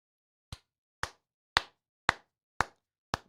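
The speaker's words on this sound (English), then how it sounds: "Slow hand clap." One person gives a slow, deliberate hand clap: six sharp, evenly spaced claps about half a second apart, close and fairly quiet, with silence between them and no talk.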